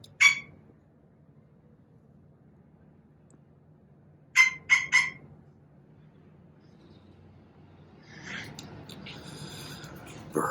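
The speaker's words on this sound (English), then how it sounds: "Birds." Birds call outdoors on a breezy day: a single sharp chirp, then a quick burst of three calls a few seconds later, with a faint wind hiss and louder rustling near the end.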